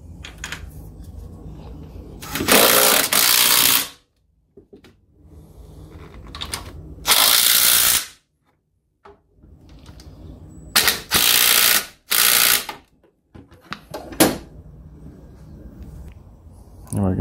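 A ratchet tightens engine mounts on a Toyota MR2 during a K-series engine swap, with loud bursts of rapid clicking separated by pauses and quieter handling noise.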